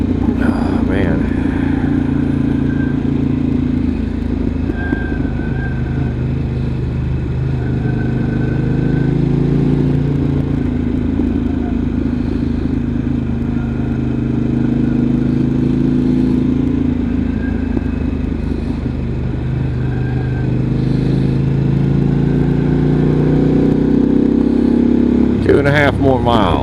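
A Moonshier 28 motorcycle rides through the dark, its engine droning steadily under wind noise, with someone talking over it.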